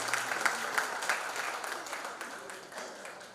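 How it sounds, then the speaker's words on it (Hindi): An audience claps together at a devotional bhajan and discourse gathering, steady, moderately distant applause that holds evenly and then gradually tapers off. "तालियां बजा दो एक बार।"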